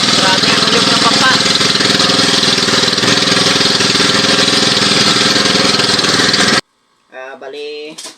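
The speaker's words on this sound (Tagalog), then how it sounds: "Grabe yung ulyog ng bangka." A fishing boat's engine runs loud and steady close by, a continuous drone that cuts off abruptly near the end, after which a voice speaks.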